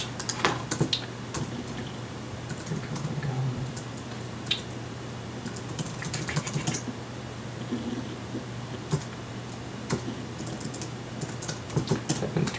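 Typing on a computer keyboard gives a steady run of soft, close key clicks over a faint background hum, with irregular rhythm and occasional louder taps.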